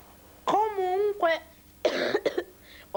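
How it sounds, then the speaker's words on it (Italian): Coughing from a character in the Italian animated series Mamma Droide: a drawn-out tonal vocal sound, then a harsh burst of two or three close coughs, fairly loud and near. "oltre che alla mia tosse"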